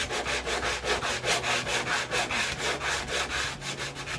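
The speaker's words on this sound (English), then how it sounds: "you sand that corner" A sanding block rubbing a painted wooden window sash corner down toward bare wood, steady rapid back-and-forth scraping strokes, close and continuous with no talking.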